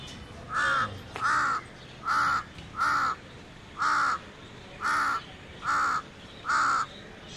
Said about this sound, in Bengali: এই যে দেখেন কাক এসে বসে আছে এই যে কাক